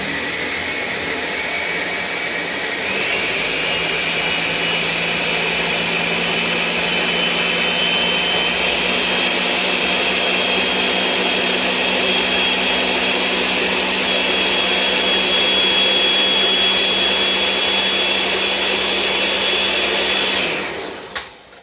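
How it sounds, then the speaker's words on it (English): A kitchen blender purees bananas and tofu, a loud, steady high-pitched motor whine that kicks up a notch early on, runs continuously for about twenty seconds, then winds down and stops. "now I'm going to turn on my blender, so excuse the noise"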